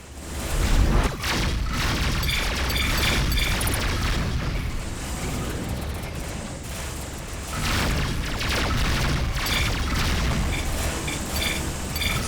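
Missiles striking a spaceship in the space combat game Rebel Galaxy, a dense run of booming impacts and rumbling blasts with crackling debris, loud and continuous, dipping briefly midway before building again.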